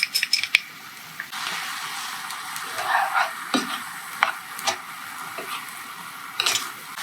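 Mushrooms being stirred into a pan of venison stroganoff, with a spoon scraping the pan in irregular strokes over a soft, steady sizzle, close and fairly quiet, with no talking.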